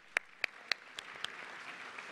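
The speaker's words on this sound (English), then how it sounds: "Let's give her a round of applause," A few sharp, separate hand claps from the audience at a roast of Dr. Edward Benz, about five distinct claps at a slow, uneven pace that then thin out into faint scattered patter.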